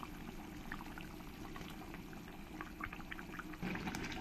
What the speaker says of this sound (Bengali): এক এক করে কই মাছগুলো দিয়ে দেব